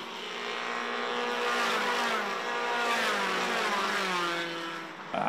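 Formula 4 race cars at Padborg Park roar past at a distance, a steady engine drone swelling and fading with shifting pitch, with no voices over it.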